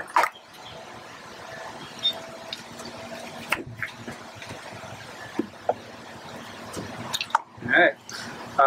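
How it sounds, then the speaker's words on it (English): Glue being stirred into water in a bowl for homemade slime, soft wet squishing and dripping sounds, faint and intermittent, with occasional louder splashy stirs near the end. "You want to make sure all the glue gets mixed up with the water so it's a nice even consistency."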